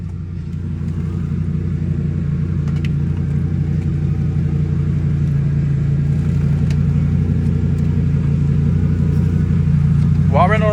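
A Dodge Ram SRT-10 Viper truck's engine idles steadily after starting, a deep continuous rumble close by that swells slightly near the end, heard alone without talk.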